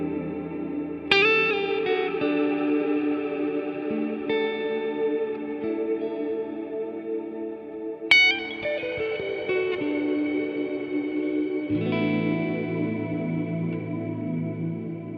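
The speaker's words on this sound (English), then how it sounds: "that's the cloud reverb" Electric guitar played through the cloud reverb setting of a LEKATO Tank-G effects pedal, sustained chords struck three times and left to bloom into a long, washy, shimmering tail, loud and close with no talking.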